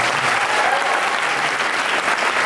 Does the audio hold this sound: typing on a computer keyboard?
no